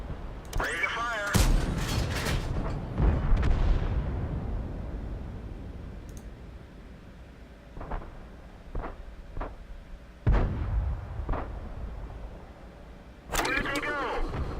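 A self-propelled artillery gun in the World of Tanks video game fires several heavy, booming shots spaced apart, with vehicle engine noise in between and a voice speaking.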